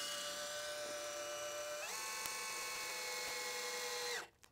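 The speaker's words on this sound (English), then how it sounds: "that's a number one Phillips bit on this drill" A power drill with a number one Phillips bit whines at a high steady pitch, the tone shifting upward partway as the screw drives in during shower kit installation, then spinning down and stopping.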